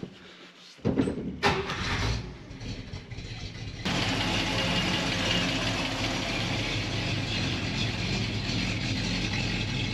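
A 1950s car engine idles in park while running rich, a steady low mechanical rumble with faint ticking that grows fuller and louder after a brief quieter, clanking start, then runs continuously to the end.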